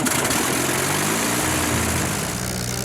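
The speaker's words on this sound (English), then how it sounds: "Merlin engines firing up" Merlin engines on an Avro Lancaster bomber start up and settle into a loud, steady rumble with a low throb. The roar stays constant the whole time and nobody speaks over it.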